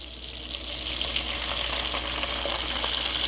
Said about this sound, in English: So now put your pan on low and throw in some marinara sauce.